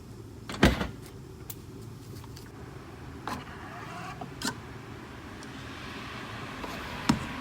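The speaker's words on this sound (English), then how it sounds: "Lock the doors." A Tesla Model 3 locks its doors with a sharp mechanical clunk, followed by several softer, spaced-out clicks and thuds over a steady low background hum.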